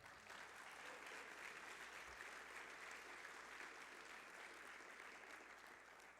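A church congregation at a Spanish-language service applauds, giving a round of applause to the Lord. Steady, dense clapping from a large crowd holds at an even level for about six seconds with no voices on top.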